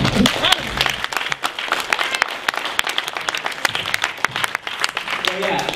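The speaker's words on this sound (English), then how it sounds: "Let's hear a round of applause for these gentlemen." A convention panel audience applauds loudly and continuously, dense clapping filling the whole stretch with a brief voice near the start.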